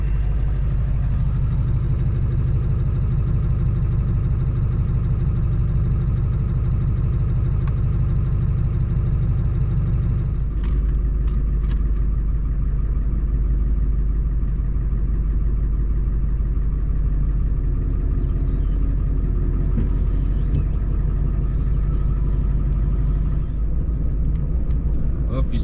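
A Ford 4610 tractor engine idles steadily with a deep, loud, continuous rumble, settling into a slightly lower drone partway through while warming its oil outdoors.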